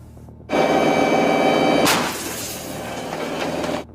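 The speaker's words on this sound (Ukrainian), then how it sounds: "заряджають машину і лунає постріл" A single loud blast from a self-propelled howitzer erupts after a steady mechanical rumble, followed by a sustained roaring wash of noise that fades out.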